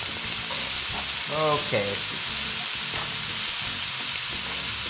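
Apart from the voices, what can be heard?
radish frying in a pan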